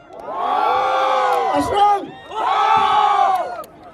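A large crowd at a sports final with arm wrestling roars and shouts in two loud, sustained bursts with a short dip between them, cheering close by.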